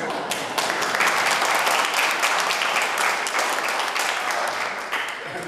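A church congregation at a worship service breaks into sustained applause, a dense wash of many hands clapping steadily throughout, loud and full in a reverberant room.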